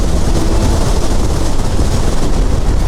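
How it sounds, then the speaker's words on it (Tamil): Strong cold wind roars across a high mountain road in Ladakh, a loud, continuous broadband rush that buffets steadily for the whole stretch with no pauses or voices. "காற்று வேறு பயங்கரமாக அடிக்குதுங்க"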